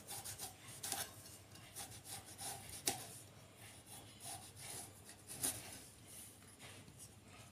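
A knife cuts a halved eggplant into four pieces on a board, giving soft scraping, rubbing strokes with a few sharper taps, fairly quiet and close, with no voices.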